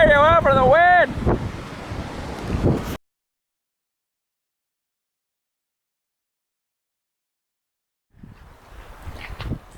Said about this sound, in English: I can't hear you over the wind.